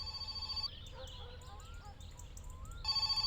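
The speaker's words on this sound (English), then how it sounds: "We're getting another phone call." A telephone rings in the My Summer Car game, a repeated electronic bell trill at the start and again at the end, with softer game sounds and faint bird-like chirps between and talk underneath.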